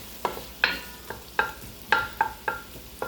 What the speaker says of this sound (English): I want to make sure those onions are caramelizing nicely.